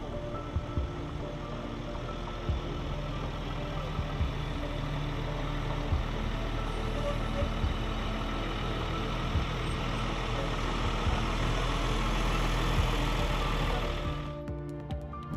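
A military fire engine from Fort Bliss idles in a long, steady, low diesel drone with faint mechanical ticking, holding constant before fading at the end.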